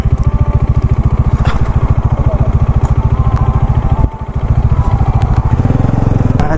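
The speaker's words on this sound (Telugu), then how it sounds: "సో తన బైక్ వచ్చేసి R15 V4" A Yamaha R15 V4 motorcycle on a road ride to Somasila, its engine loud and close with a rapid steady pulsing drone, briefly dipping before the revs pick up again.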